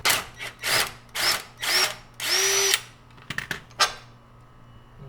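Power tool loosening an 18 mm nut on a Mk4 Volkswagen Golf control arm, with four or five loud close bursts of whirring rising in pitch, then a few sharp metallic clicks and knocks.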